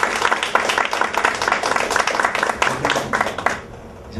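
Audience applause at a music workshop honoring a double bassist, a dense run of clapping that holds steady for several seconds and then fades out near the end.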